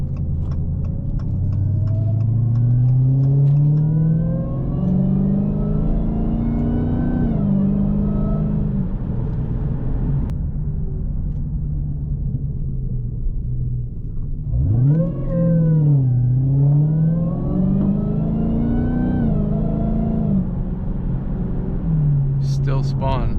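A Dodge Hellcat Redeye fitted with Weld beadlocks revs hard, its supercharged engine rising and falling in long sweeping pulls with tires spinning, loud and close, with voices talking over it.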